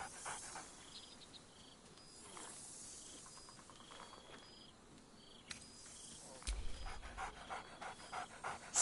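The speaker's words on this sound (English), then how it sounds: "Scratch barks merrily in something like agreement" Scratch, a dog in the video game Baldur's Gate 3, pants steadily amid soft insect-like ambience, with a few sharp barks and a louder burst near the end.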